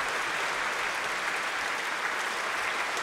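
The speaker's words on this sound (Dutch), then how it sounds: "En dit applaus is voor fagottist Benny Agassi." Steady applause from a concert audience honoring a bassoonist after a Baroque choral and orchestral performance at an early music festival, dense even clapping throughout with no voices.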